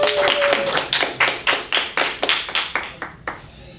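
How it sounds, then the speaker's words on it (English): A small group at a university robotics competition claps in a round of applause, the individual claps distinct and rhythmic, gradually thinning out and fading toward the end. "let's give him one more round of applause for donating his time tonight"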